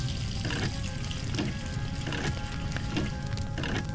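Running water pours steadily in the Nancy Drew game Ghost Dogs of Moon Lake, a continuous faucet-like hiss and splash that stays even and close for the whole stretch, with no talking over it.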